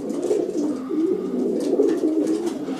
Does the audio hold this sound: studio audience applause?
no